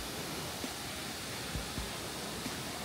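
Indoor waterfall inside Qatar's airport terminal, a steady broadband rush of falling water that stays constant and fairly faint throughout, with a few soft thumps and no talking.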